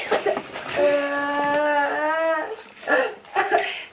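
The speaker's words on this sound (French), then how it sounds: "Et il se réveille en chialant." A young child wakes from a nap after a car ride and cries nearby, a sustained wavering wail with short gasping sobs before and after it.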